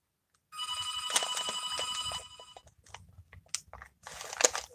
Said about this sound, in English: That's my house phone, you guys,